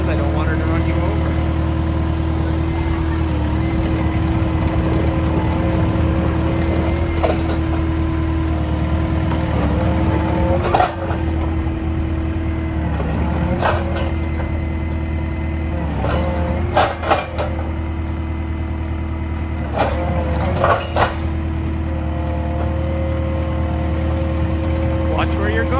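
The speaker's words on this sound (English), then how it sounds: "Learning to drive the skid steer this morning." A skid steer loader's engine runs steadily while the machine is driven and maneuvered, a constant mid-pitched drone with occasional clanks and bumps, and people talk over it now and then.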